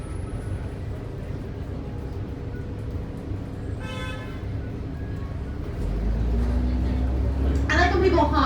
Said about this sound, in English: People honk when you're braking for pedestrians who have the right of way.